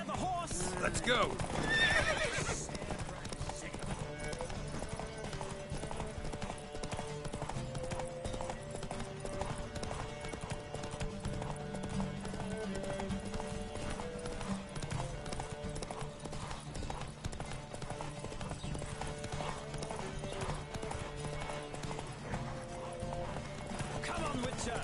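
Horses gallop in a race in the video game The Witcher 3, with rapid clip-clopping hooves running throughout and a neigh near the start, while voices call out over the hoofbeats.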